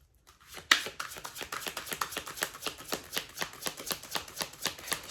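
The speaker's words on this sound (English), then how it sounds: "I'm going to give it one more shuffle." Cards riffle-shuffled close by, a quick, steady run of crisp fluttering clicks lasting several seconds after a soft start, with no talking.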